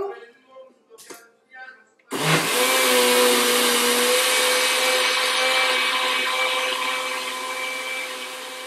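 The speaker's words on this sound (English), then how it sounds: "I'm going to blend it a little bit more" A blender whirs into a loud, steady high-pitched roar while blending vegan cheese sauce ingredients, after a few short bursts and some brief sounds at the start, then running continuously and easing slightly in tone.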